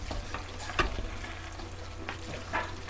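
A spoon stirs Kraft mac and cheese in a pot, giving soft wet scrapes with a few sharper knocks, close and steady, with nobody speaking.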